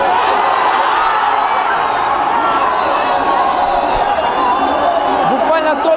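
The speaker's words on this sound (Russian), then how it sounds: "Толпа беснующихся фанатов взорвалась во второй раз" Football fans of Shakhtar Karaganda, the Kazakhstan champions, roaring and cheering in a stadium after a win, a loud, dense, continuous crowd noise with shouts and whoops blending into one wall of sound.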